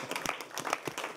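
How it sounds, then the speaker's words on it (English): Brief burst of applause from an audience at an X Games press conference in Minneapolis, faint and fairly distant, scattered claps lasting about a second. "Can we get a round of applause to the man who makes it all happen, Tim Reed, down there on the end."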